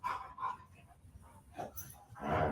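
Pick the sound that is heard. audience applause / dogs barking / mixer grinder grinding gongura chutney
dogs barking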